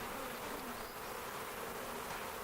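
Honey bees buzz in a thick, continuous drone around an opened hive, loud and close, with no talking.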